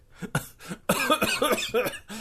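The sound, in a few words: voice imitating a dramatic cough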